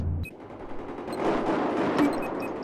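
Rapid bursts of gunfire in Battlefield 4 on Operation Locker crackle in quick succession, a dense automatic volley lasting a couple of seconds with sharp individual shots.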